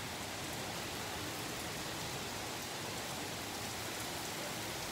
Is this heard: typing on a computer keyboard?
no